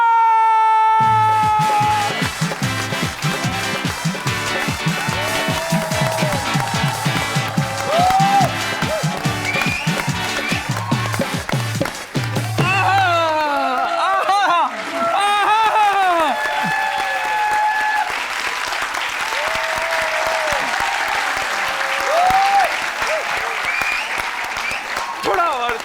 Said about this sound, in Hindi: आप सबकी भरपूर तालियों में, आप लोगों की मोहब्बत में बुलाना चाहूंगा the one and only Umar Akmal.